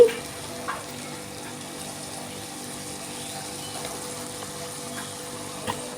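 Mutton pieces frying with green chillies in a pan, a steady low sizzle and bubbling hiss with a couple of soft knocks from stirring, close and fairly quiet, no talking.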